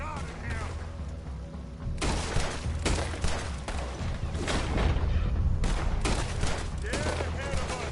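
Rapid bursts of gunfire in a console shooter game, volleys repeating through the stretch with louder clusters, under excited shouted talk.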